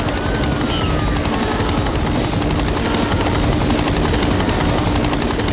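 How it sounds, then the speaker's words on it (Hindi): A helicopter drones loudly and steadily overhead, its rotor chopping in a fast, even pulse with a constant high engine whine. "हेलीकॉप्टर की आवाज से कहीं वो तुम्हारी बहन को नुकसान न पहुंचाए।"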